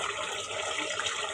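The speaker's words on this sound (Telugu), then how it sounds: "నేనైతే ఇప్పుడు నీళ్ళు పోసేస్తున్నా తగినన్ని" Water pours steadily into a pot of chicken curry seasoned with ginger-garlic paste, a continuous close rushing splash lasting the whole moment with no talking.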